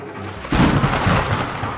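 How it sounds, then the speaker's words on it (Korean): A loud thunder crack breaks over a steady rain hiss, then rolls on with a broad rumble that slowly fades. "비야 와라 천둥아 쳐라"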